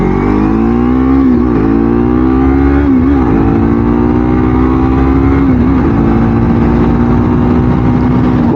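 Yamaha MT-03 motorcycle engine accelerating hard, a loud, close, continuous buzzing drone whose pitch climbs steadily with brief dips at gear shifts, no voices over it.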